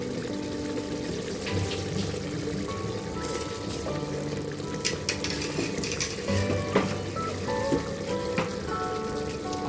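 Water poured over 1.5 cups of rice in a pot of spiced mushroom biryani base, a bubbling, sizzling kitchen wash with light clinks of utensils against the pot, steady and fairly close.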